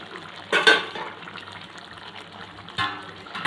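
Coconut milk poured into a pan of simmering prawn malai curry, two short liquid splashing bursts standing out over a soft, steady background of gentle bubbling.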